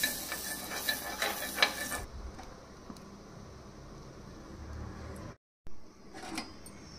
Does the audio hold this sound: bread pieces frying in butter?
yes